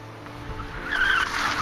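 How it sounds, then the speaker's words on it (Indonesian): A car's tires screech in a rising squeal that swells midway and holds, loud and close, over a low rumble. "Tidak lama kemudian terdengar derikan sebuah ban mobil."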